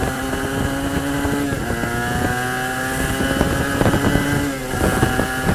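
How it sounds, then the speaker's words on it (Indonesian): A revving Suzuki RGR 150 Sprinter two-stroke motorcycle engine while riding, loud and close, with a rough, buzzing character and engine pitch rising and falling as it pulls, wind rushing underneath. "Seneng gue punya motor 2 tak."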